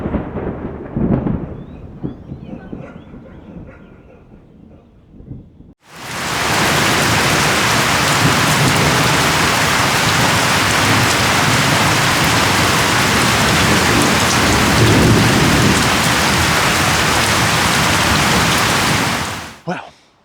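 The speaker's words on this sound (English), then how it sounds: "Well, that was a surprise thunderstorm." A sudden thunderstorm breaks into a loud, steady roar of heavy rain that lasts about fourteen seconds, with deep rumbling underneath, after a quieter stretch at the start, then cuts off abruptly.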